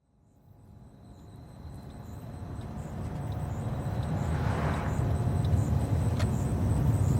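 A car driven at night through Playa del Coco, its engine and road rumble swelling gradually from near silence into a steady, fairly loud interior drone, with no voices.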